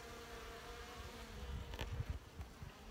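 Honey bees hum around a hive being fed from a pail ahead of winter, a steady soft drone with occasional closer buzzing passes and no voices.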